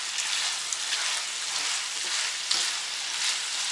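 Potatoes and onion fry in a pan in a village kitchen, giving a steady close hiss and crackle of oil with faint stirring scrapes throughout.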